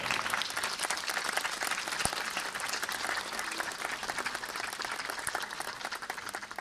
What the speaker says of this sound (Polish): Brawa dla wszystkich występujących.